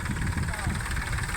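A tractor towing a rotavator, with its engine running at a steady, close idle-like rumble throughout the short moment, and faint voices alongside.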